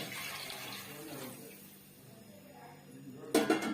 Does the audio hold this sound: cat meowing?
no